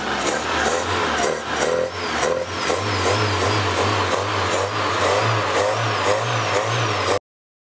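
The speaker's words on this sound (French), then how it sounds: "C'est bon, j'ai fait chauffer le moteur là." A warmed-up Peugeot 205 Turbo engine revs repeatedly, rising and falling in quick pulses over a steady idle, close and loud with no talking.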